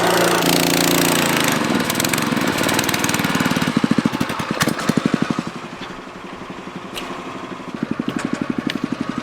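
A small engine runs steadily nearby while a planter marker tank is refilled, a loud chugging drone that shifts to a choppier, pulsing idle partway through, with no talk.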